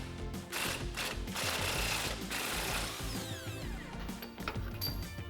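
A 15 mm impact wrench hammers in rapid, loud bursts, spinning off a strut nut held with channel locks on a 2019-2022 Chevrolet Silverado 1500 front suspension during a leveling kit install.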